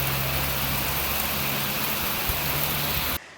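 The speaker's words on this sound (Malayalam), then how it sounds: "അതേ മഴ ശക്തി പ്രാപിക്കുകയാണ്." Steady rain pours down outdoors in the Vagamon hills, a dense, even hiss with a low hum underneath that holds for about three seconds before cutting off abruptly.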